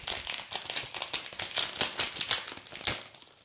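Plastic packaging crinkling and rustling close up in quick irregular bursts, as a wrapper is torn and peeled open.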